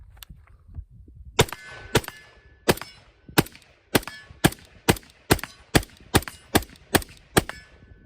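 Rifle firing 5.56 rounds, about a dozen sharp loud shots in an uneven but steady sequence after a short quiet start, with no talk.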